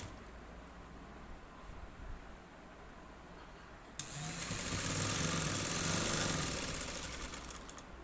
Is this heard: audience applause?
no